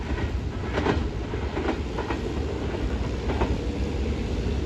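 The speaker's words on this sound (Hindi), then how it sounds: "150 डाउन मेहरान एक्सप्रेस आ चुकी है" The Mehran Express rolls into Dabheji railway station with a steady, loud rumble of wheels and carriages and faint clickety-clack beats on the rails, continuous and near, without talk.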